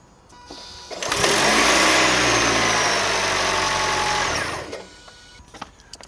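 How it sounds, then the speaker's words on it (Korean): Engine of a 7th-generation Lexus ES300h hybrid revving as the accelerator is pressed, a loud steady mid-pitched drone that builds quickly, holds for about three seconds and then drops away, with no talk. "엑셀을 밟아야만 엔진음이 들리더라고요 그래서 일단 그냥 엔진음만 한번 보여드리고"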